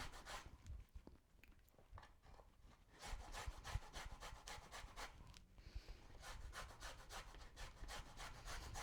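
Lemon zest is grated on a hand grater in quick scraping strokes, with short pauses where the lemon is turned. The rasping is close and soft, and no one speaks.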